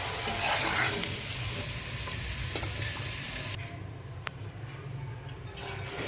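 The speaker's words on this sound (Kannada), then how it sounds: "ಎಲ್ಲನೂ ಮುಕ್ಕಾಲು ಭಾಗ ಎಣ್ಣೆಲೆ ಫ್ರೈ ಮಾಡ್ಕೋಬೇಕು" Mixed vegetables for a veg kurma frying in oil, a steady close sizzle that runs throughout, with a brighter hiss at the start that drops to a softer, even crackle partway through.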